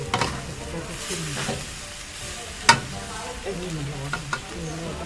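Shark meat dry-stirred in a hot pan, with a steady low sizzle and scraping stir strokes, a few sharp clinks of utensil against pan, close and alone with no talking.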